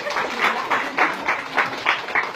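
An audience at an elementary school class debate claps steadily, a dense patter of many hands swelling in soft rhythmic waves, fairly close and loud.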